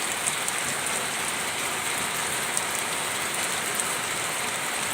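Rain falls steadily in a dense, even hiss, close and unbroken, with faint sharp ticks of drops striking a nearby surface and no voices.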